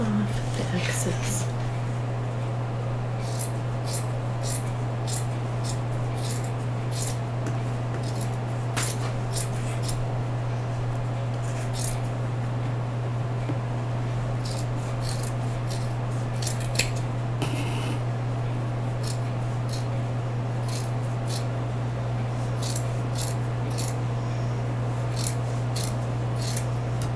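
Scissors snip through fabric to trim the excess from a homemade envelope pillowcase, a series of short, crisp cuts scattered irregularly across a quiet room with a steady low hum beneath.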